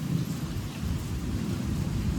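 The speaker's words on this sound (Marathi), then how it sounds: "हा भरपूर बाहेर पाऊस पडतो" Heavy rain falls outside a village home in Kokan while thunder rolls, a dense low rumble under continuous rain hiss, loud and steady for the whole stretch.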